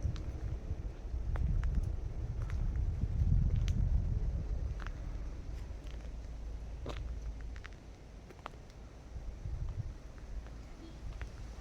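Strong outdoor wind buffeting a microphone, with loud low rumbling gusts that swell and ease over several seconds, plus scattered faint clicks and rustles.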